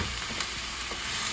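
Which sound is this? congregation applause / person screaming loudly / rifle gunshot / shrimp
shrimp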